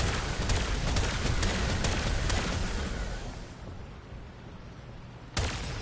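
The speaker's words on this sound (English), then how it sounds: "Well, yeah, fireworks." Fireworks burst in a video game, a dense run of loud crackling booms that fades out, then a sharp new blast near the end.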